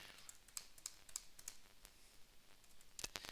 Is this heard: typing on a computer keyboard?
yes